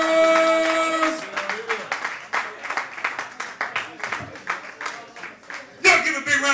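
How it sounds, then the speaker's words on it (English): A comedy-club crowd at a sports bar and grill claps after a stand-up set, the claps coming as a steady run of distinct hand claps from a modest crowd, with loud voices at the start and end. "Y'all give a big round of applause for Johnny Squires!"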